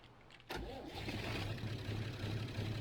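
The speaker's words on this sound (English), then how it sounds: "Let's see if the Leyland will start." A vintage Leyland tractor engine cranks and catches, then settles into a steady, loud idle with a rhythmic low chug close by.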